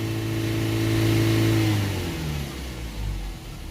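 A Ford Transit van with a blocked diesel particulate filter revs steadily around 3000 RPM, the engine tone holding loud and close, then dropping away as the revs fall back toward idle.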